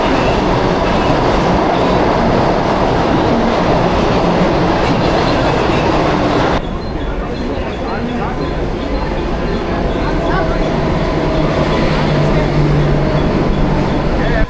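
Mangaluru–Surat Express on the Konkan Railway at Vasai, heard from on board as a steady, loud rumble and rhythmic clickety-clack of wheels, with a brief dip in level midway and crowd voices mixed underneath.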